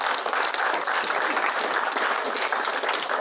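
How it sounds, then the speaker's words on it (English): An audience in a hall claps warmly for standing faculty members, a dense, even wash of applause that holds steady and fairly loud throughout, with no voices rising above it. "So if they would stand and give them a round of applause."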